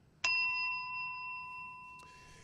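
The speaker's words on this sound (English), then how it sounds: "Oh, where's my bell? I need the bell for that one." A desk bell is struck once with a sharp, bright ding that rings on clearly and slowly decays, followed by a faint click near the end in a quiet room.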